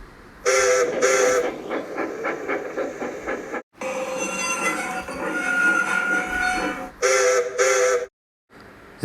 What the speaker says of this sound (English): Then, the two engines heard Luke's whistle.